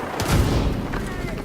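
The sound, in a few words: grenade launcher explosion in video game The Division 2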